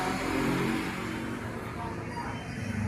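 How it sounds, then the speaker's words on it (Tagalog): Continuous rumble of passing vehicles on a busy road on a Sunday, engines droning at a distance with a car accelerating, steady and fairly loud. "Linggo kasi ngayon kaya ang daming sasakyan. Pag linggo busy. Busy yung kalsada."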